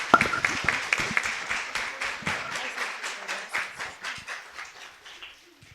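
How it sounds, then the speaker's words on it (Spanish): Applause for the speakers at the close of a panel discussion on International Women's Day (8M): steady crowd clapping from a medium-sized audience that slowly thins and fades toward the end. "otro fuerte aplauso"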